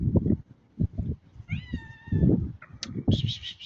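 A black cat meows several times, a few short close cries and one longer drawn-out meow, mixed in with low rustling and handling noises nearby.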